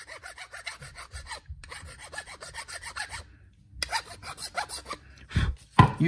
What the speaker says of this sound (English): Sometimes I'll hit it with the file, and that'll make a little bit quicker work of it.